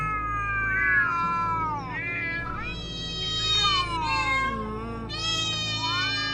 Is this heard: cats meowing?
yes